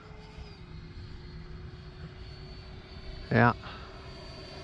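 An X-Fly Alpha RC airplane makes a flyby pass, its engine a steady, continuous drone heard from a distance under the open-air field ambience, with a short spoken word near the end.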